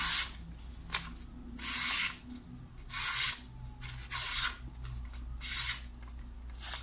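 An Opinel knife with a poor, toothy factory edge cuts through material on blade geometry alone, giving repeated bright rasping strokes, about five of them, close up and steady with short pauses between.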